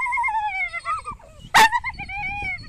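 A dog chasing an ostrich gives sustained high whines and yips in long wavering tones, broken by one sharp burst near the middle, heard close with faint background movement.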